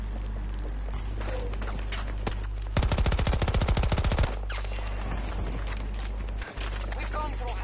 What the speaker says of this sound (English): That's a single fire gun, I think.